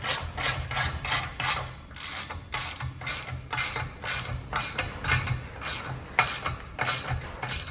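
A ratchet clicks in quick, steady strokes while tightening the exhaust downpipe on a Renault Clio 182 with an Audi 1.8 20VT engine conversion, close and continuous.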